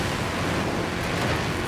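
Steady broadband rushing and splashing as a Land Rover Defender 90 drives through a body of water in Forza Horizon 4, loud and continuous like surf, with no voices.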